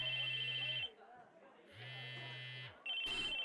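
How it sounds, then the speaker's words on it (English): A cell phone ringtone in the visual novel Chaos;Head sounds in two steady electronic bursts with a low hum underneath, separated by a short gap, then starts a third time. It is clear and fairly loud, with no one talking. "the ringtone was ringing at the same time"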